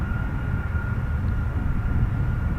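A KC-135 Stratotanker's engines give a steady, loud, broadband roar at an air force base, continuous and without pause, with a faint sustained whine above the deep rumble.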